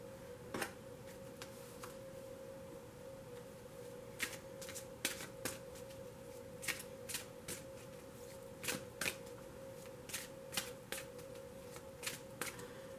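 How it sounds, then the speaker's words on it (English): A deck of tarot cards shuffled by hand, soft riffling bursts and sharp card snaps recurring irregularly over a steady low hum, fairly quiet and close, with no talking. "I'm going to start shuffling my next deck."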